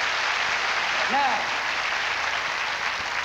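Congregation clapping during a church sermon, a steady broad wash of applause filling the short stretch with a brief spoken word over it.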